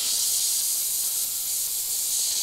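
An airbrush sprays pre-mixed light grey paint onto a model spaceship, giving a continuous, even high hiss that runs steadily from start to finish with no voices.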